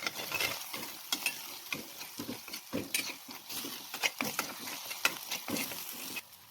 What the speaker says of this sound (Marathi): वाटणाला तेल सुटेपर्यंत छान परतवून घेऊया